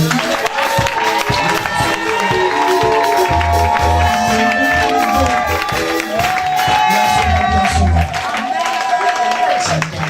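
A church congregation applauds and cheers for a man of God during a lively worship service, the dense crowd noise loud and sustained throughout and mixed with voices and ringing musical tones.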